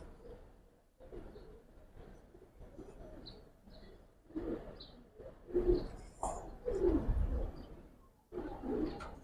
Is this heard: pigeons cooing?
yes